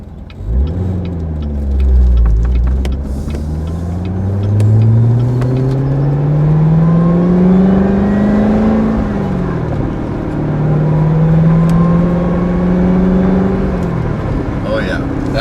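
A Corvette Z06 engine revs close by with the exhaust open, its deep exhaust rumble climbing and dropping in pitch through several long, loud pulls.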